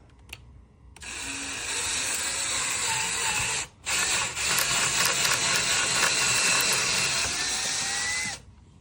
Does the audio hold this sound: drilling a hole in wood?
yes